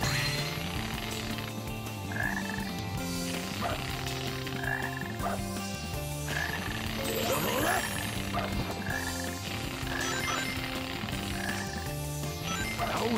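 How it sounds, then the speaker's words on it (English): Frogs croak repeatedly in the Sonic Heroes video game, a steady rhythmic series of deep, looping croaks layered over game music and effects, clear and continuous. "Hey, there's a frog over there."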